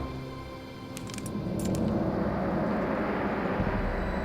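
A helicopter in a Jurassic Park video game holds a steady, loud engine and rotor drone that swells slightly partway through, with a few brief metallic clinks early on and no talking.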